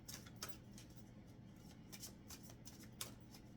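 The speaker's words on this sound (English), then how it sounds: "Let's get some oracle cards for you" Oracle cards shuffled during a Gemini tarot reading, giving faint, soft papery riffles and light taps that come in irregular bursts over a quiet background.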